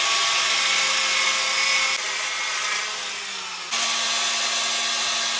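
A wooden strip is cut through the middle while a loft is being fitted, giving a steady, close, broadband rasp of sawing with a brief dip in intensity partway through and no talk.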